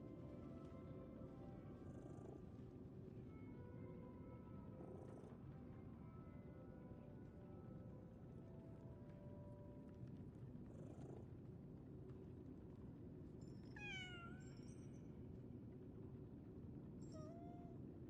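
A cat in the Lies of P video game purrs with a soft, continuous low rumble, broken by several short meows scattered through it, faint and close.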